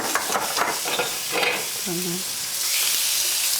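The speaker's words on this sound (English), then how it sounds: "Nice sizzle." Duck sizzles steadily in a hot non-stick skillet, a constant crackling hiss, with a brief faint voice-like tone in the middle.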